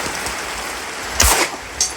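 Rain falls steadily at an outdoor shooting range, a close broadband hiss with two sharper bursts breaking through near the end.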